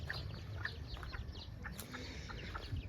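Mini chickens and a dozen or so chicks on a farm give scattered short clucks and peeping chirps at low level, overlapping irregularly against a faint background hum.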